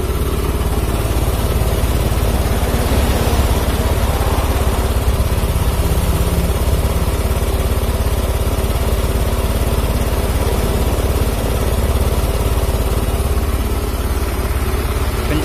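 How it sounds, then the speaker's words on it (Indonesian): A motorcycle engine idles steadily after being restarted, a loud, close, continuous mid-pitched rumble with a slightly uneven idle and no speech. "Oke, ini coba saya matikan, saya hidupkan lagi. Tuh nyala toh, langsam stasioner."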